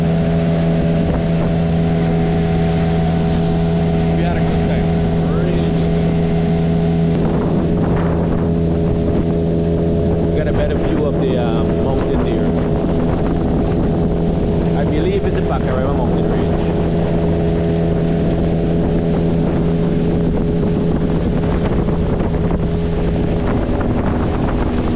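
Outboard-engine boat running slowly over a shallow, rocky river at low water, its steady motor drone close by and continuous with wind buffeting the microphone; someone talks over it.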